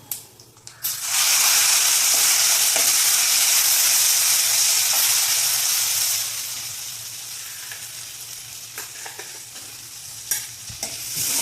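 Raw mango pieces sautéing with onion in hot oil for a mango pickle, a loud steady sizzle that swells right after the pieces go in, then settles to a softer frying hiss with occasional spatula scrapes.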